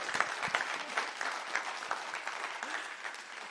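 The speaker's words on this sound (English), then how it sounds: "You can clap now." Applause from a business summit audience, a steady patter of many hands at moderate distance, fairly quiet and even, with no voices over it.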